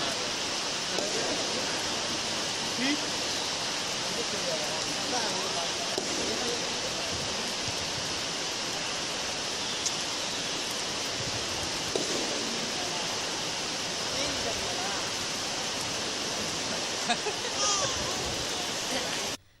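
Light rain falls on a street in steady, even hiss for the whole stretch, a constant wash of drops with faint, indistinct voices underneath before it stops abruptly at the end.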